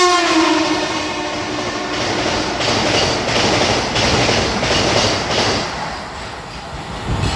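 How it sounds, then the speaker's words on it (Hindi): A Vande Bharat Express on the Durg–Visakhapatnam run rushes past at speed, a loud sustained roar with a horn blast at the start and rhythmic wheel clatter throughout. "आ रही है भाई वंदे भारत एक्सप्रेस दुर्ग विशाखापट्टनम। यहीं से एक्सेलरेट करेगी"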